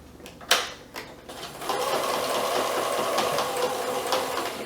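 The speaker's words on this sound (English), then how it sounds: "I'm going to turn my fabric so now that the sewn part is perpendicular to my sewing machine" A sewing machine stitching fabric around a corner of a self-binding baby blanket, opening with a few short clicks and stitches and then running in a steady, continuous whir, close by and with no talk.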